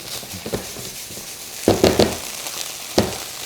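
Mexican street corn rice sizzles softly in a pan while it browns, with a few louder scrapes and taps of a utensil breaking through the low hiss.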